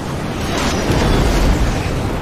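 A missile launch explosion in StarCraft II, a loud dense roaring blast with a rumbling low end that holds steady for about two seconds without a break.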